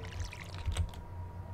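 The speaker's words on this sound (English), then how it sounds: "And we're gonna water these pumpkins." Pumpkins being watered with a watering can in the video game Stardew Valley give a short splashing pour with faint clicks, moderately loud and close, with no talking.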